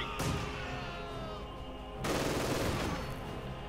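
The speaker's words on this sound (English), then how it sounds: "Bit of light gunning going on there." Machine gun fire in the real-time strategy game Company of Heroes 2 rattles as quiet, dense bursts, with one sustained burst, a brief lull, then a heavier burst of overlapping fire, with no talk.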